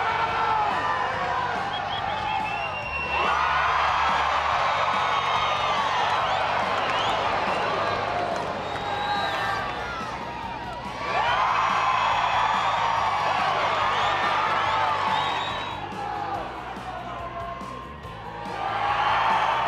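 A crowd at an NRHA Open Futurity reining horse final cheers and whoops in two loud swells of applause and hollering, with an announcer's voice running beneath.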